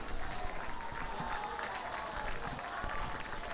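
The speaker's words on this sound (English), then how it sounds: "And the crowd goes up as Randeep makes his way back to the field." Crowd at a schools rugby league match between St. Joseph's College and Kingswood College, cheering and clapping as an injured player returns to the field, a dense, continuous wash of noise heard from a distance.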